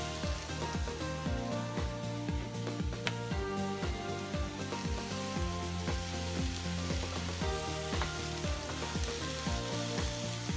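Firm tofu and broccoli florets fry in a pan with a continuous sizzle, joined by repeated rhythmic scraping and tapping strokes of stirring and some tonal background sound throughout.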